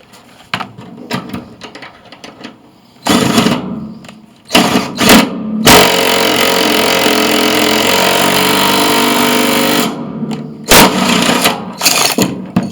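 A power wrench tightens a blind fastener anchoring a Blue Baron truck mount, giving short buzzing bursts and then one sustained whirring run of several seconds, loud and close, followed by a few more brief bursts.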